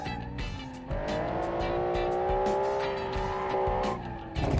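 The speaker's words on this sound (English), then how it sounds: "Not the greatest engine sound, by the way." A car in the BeamNG driving game: a sustained engine drone joined by squealing, skidding tires, loud and continuous for several seconds, with no talking.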